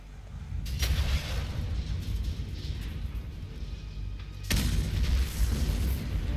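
A deep, booming explosion in Metal Gear Solid: The Twin Snakes rumbles with low-end roar, then a second loud blast hits near the end, heavy and sustained.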